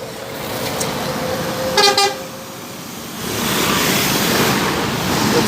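A PMH Midu Arta luxury bus bound for Jambi passes on a Sumatran highway, giving a short double horn blast over steady road roar that grows heavier as it goes by.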